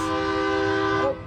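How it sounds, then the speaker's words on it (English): A train horn sounds in a Chapala, Mexico setting, one steady, loud multi-tone blast holding for about a second before cutting off, with no talk over it. "Sounds like that's a train."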